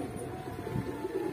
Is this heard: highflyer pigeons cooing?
yes